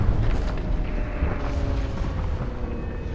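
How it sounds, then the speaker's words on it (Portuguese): Deep, continuous rumbling booms from a series of detonations tearing through a ship's interior, its fuel tanks and ammunition magazines exploding, a dense low roar with no clear gaps. "O navio é rasgado por dentro por uma série de detonações."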